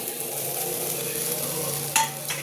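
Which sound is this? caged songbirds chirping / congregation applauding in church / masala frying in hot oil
masala frying in hot oil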